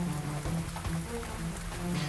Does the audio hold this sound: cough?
no